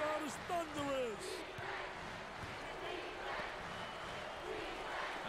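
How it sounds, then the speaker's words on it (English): Crowd of basketball fans cheering loudly at an NCAA college game between Elon and Indiana, a sustained thunderous roar that fills the arena, with a commentator's voice briefly rising over it near the start. "listen to those fans. The crowd is thunderous."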